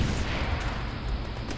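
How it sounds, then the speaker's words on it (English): Grenade blast in a video game shooter, a continuous loud low rumbling roar with a few sharper bursts, filling the short stretch without any talk. "I'm gonna throw a grenade."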